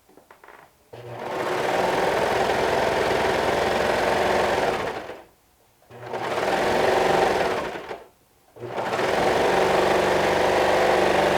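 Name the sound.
sewing machine sewing sleeves onto a shirt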